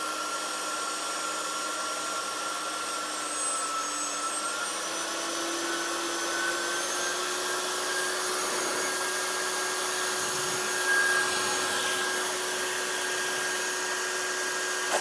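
Shernbao Cyclone SHD 1800 cat grooming blower runs in a loud, steady, airy roar with a faint whine that rises slightly in pitch as power increases, close and continuous with no talking.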